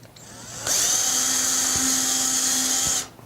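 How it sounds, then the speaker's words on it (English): A power drill fitted with a 1/4 inch bit enlarges a hole in a wall, its motor whining loudly and steadily for a couple of seconds before spinning down, close and alone. "enlarge the hole with a 1/4 inch drill bit"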